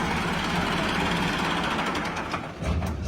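A tractor engine in rural Punjab drives a maize sheller, producing a loud, steady low rumble with mechanical rattling throughout and a slight dip near the end.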